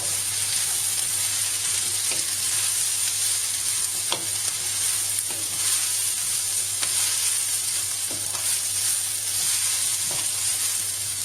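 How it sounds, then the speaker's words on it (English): Cabbage sizzling steadily as it stir-fries in a pan of noodles, with a constant hiss throughout and occasional sharp scrapes and clicks from stirring, close and fairly loud, no voices. "Put that in. Again, give it a good stir, give it a good mix round."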